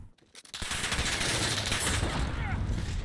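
Sustained bursts of automatic gunfire from a Modern Warfare beta team deathmatch match, loud and continuous after a brief quiet start, with dense overlapping shots filling the scene.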